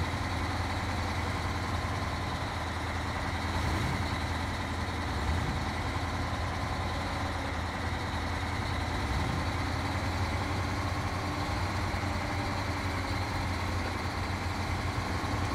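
A truck engine idling in the video game Snowrunner, a steady low rumble with an even drone that holds without revving for the whole stretch, moderately loud.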